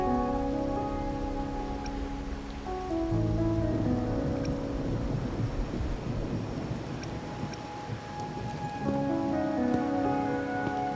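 Steady rain pattering in the video game Wuthering Waves, an even hiss under sustained tonal music that changes chords and then fades and returns, with no voices.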